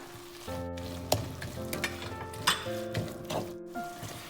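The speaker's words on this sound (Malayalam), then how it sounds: "ഇനി നമുക്ക് ഈ തക്കാളി ഉടയുന്ന വരെ നന്നായിട്ട് വഴറ്റി കൊടുക്കണം." Tomatoes sautéing with chilli, coriander powder and chicken masala for a crab roast, a dense close sizzle with repeated spoon scrapes and clinks against the pan, no voices.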